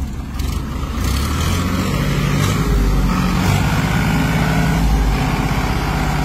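Two tractors, a Farmtrac and a Mahindra, run their engines hard side by side at high throttle on farmland, a loud steady diesel roar that holds without break and swells slightly partway through, with no voices.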